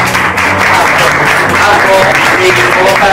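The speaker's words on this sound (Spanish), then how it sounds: "Un aplauso, por supuesto." Loud, dense applause from an audience at an art event in Madrid rolls on steadily, with faint voices mixed into the crowd noise.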